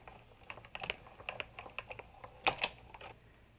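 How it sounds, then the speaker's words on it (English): A Sizzix Big Shot die-cutting machine is cranked, rolling an embossing folder and cardstock between cutting pads on a multipurpose platform, making a steady run of small ratcheting clicks and a couple of sharper knocks near the end, close and fairly quiet. "And again, we simply roll this through the Big Shot."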